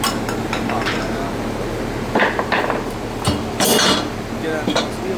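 Metallic clanks and knocks ring out irregularly as the back of a wheel rim is hammered to free the tire bead, over a steady background noise, with a few sharp louder strikes near the end.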